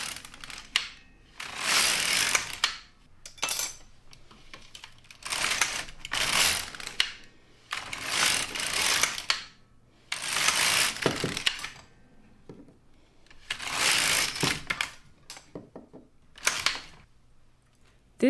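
A Brother LK-150 knitting machine carriage is pushed across the bed to knit rows, making repeated raspy mechanical swishes and clatters in separate passes with short quiet gaps between them. No one speaks.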